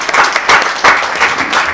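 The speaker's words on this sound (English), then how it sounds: "So please help me to give a round of applause to Dr." Brief round of applause from an audience at a marketing society event, uneven bursts of clapping that swell and dip over a couple of seconds, fairly loud and close.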